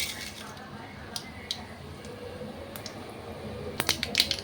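Mustard seeds splutter and pop in hot oil in a pan with sparse, quiet crackles, then a quick cluster of sharper pops near the end.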